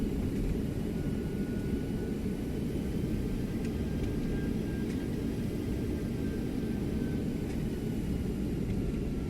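Thrust reversers on an Airbus A319 landing in the X-Plane 11 flight simulator give a steady, loud, broad roar that holds evenly throughout, with no voices.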